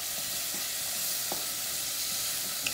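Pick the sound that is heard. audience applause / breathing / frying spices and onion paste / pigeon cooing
frying spices and onion paste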